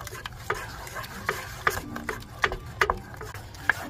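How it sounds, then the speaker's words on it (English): A spoon stirs eggs into a chocolate mixture for a no-bake chocolate slice, making a series of irregular clicks and taps against the bowl, close and fairly loud. "Give them a stir."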